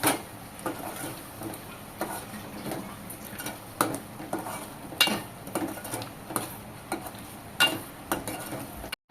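A spoon stirs ground coconut paste into a spicy village-style egg curry in a pot, making steady close scraping and clinking strokes with soft wet sloshing and no talk.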